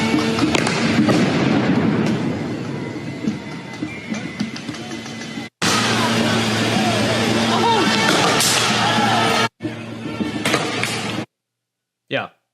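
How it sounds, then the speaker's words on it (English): Fireworks lobbed over a fence at a street protest, heard as a dense, loud crackle of bangs and pops over crowd noise, with a few abrupt cuts and a brief burst near the end. "They're lobbing fireworks over the fence."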